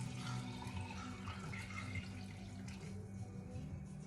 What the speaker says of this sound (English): Now we're gonna add in 4 cups of beef broth.